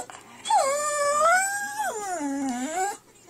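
A dog lets out a single close, sustained howl lasting about two and a half seconds, its pitch rising and falling in a wavering, voice-like sweep that sounds almost like a word, with no talking over it.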